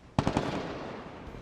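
Gunfire in the zombie survival game Project Zomboid: a quick burst of three or four sharp shots, fairly quiet, with a lingering echo afterward and no speech.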